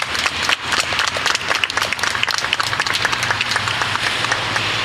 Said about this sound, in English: And Stuart, you deserve a big thank you and a big round of applause.